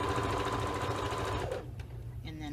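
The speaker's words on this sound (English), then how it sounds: "Hold this gently, sink my needle, two stitches or so," A sewing machine stitching a flange pillow runs in a fast, close mechanical whir, then stops abruptly, with a person talking over it.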